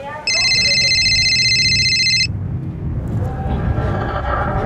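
An electronic phone ringtone trills steadily for about two seconds, then cuts off, leaving low background rumble and murmuring voices.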